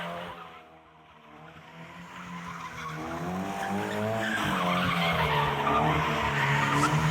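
A Subaru BRZ with overpipe, front pipe and catback exhaust modifications drifts sideways, its tires squealing in a long, wavering screech over a loud, rising engine note that swells and stays strong throughout.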